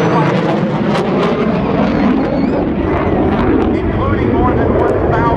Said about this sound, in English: He's now going to demonstrate the FA-18's extremely tight turning radius